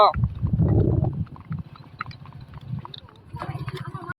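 A Kathiyawadi mare's hooves clip-clop on a road near a Khodiyar temple, loud and close at first, then fading to softer uneven steps before picking up again.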